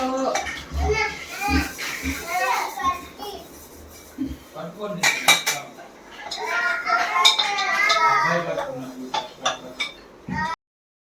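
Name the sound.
washing dishes, pots clinking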